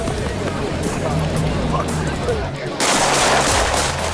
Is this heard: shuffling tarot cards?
no